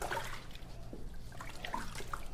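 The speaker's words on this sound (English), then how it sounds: "So now I've returned her foot to the water." A foot being lowered back into the water of a pedicure tub gives faint, soft trickling and light sloshing, quiet and close, with no voices.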